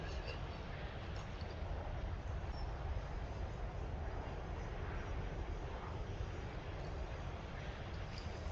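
Aircraft engine in the Roblox flight game Aeronautica, a continuous broadband jet roar that holds steady and moderately loud throughout, with no pause or change in pitch.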